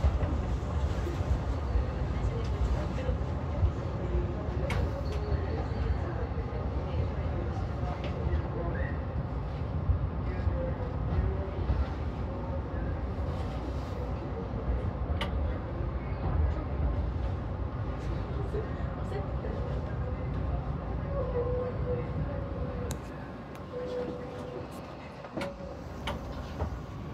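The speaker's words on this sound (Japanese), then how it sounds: "回送電車が発車します。" A Tobu 10030 series electric out-of-service train rumbles steadily with a low hum and faint clatter departing on the Tobu Isesaki Line, then eases off near the end; a station announcement voice is faintly present.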